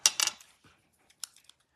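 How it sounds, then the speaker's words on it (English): A few quick metallic snips and rustles of scissors cutting paper for a Stampin' Up! craft, the blades catching and sticky with glue, close and quiet with short gaps between cuts. "these aren't the right scissors because they're really catching and they've got glue on them"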